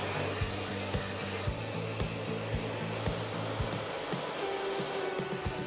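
A hair dryer blows hair dry for a full, bouncy finish, giving a steady, close whooshing roar with faint periodic thumps as it is moved through the hair.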